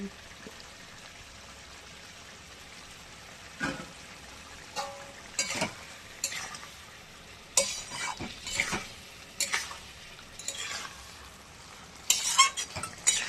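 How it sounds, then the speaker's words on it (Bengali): Bhola fish sautés in a pan with a low continuous sizzle. A utensil stirs and scrapes in scattered bursts that grow busier toward the end, close and moderately loud. "বন্ধুরা এই যে মাছও দিয়ে কষিয়ে নেবো।"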